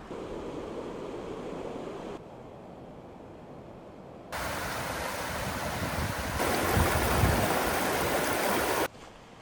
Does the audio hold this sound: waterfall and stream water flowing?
yes